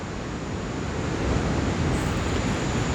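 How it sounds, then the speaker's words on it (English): Ocean waves roll in a steady, broad roar with a slight surge midway, loud and continuous, heard without voices. "Listen to the waves of the ocean, the power of the ocean."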